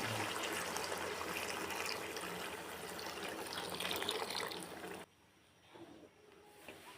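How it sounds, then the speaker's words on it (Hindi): Two glasses of water poured into a pot of aloo matar keema with potatoes, peas and green chillies, a steady splashing pour for about five seconds before it stops, leaving faint kitchen sounds. "पानी शामिल करेंगे 2 गिलास।"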